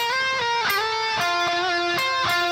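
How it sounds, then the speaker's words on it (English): Distorted electric guitar plays a quick pentatonic run in a solo, with a hammer-on and pull-off, notes sliding and picked in short bursts, loud and close with no talking. "So the next section is a small like pentatonic run,"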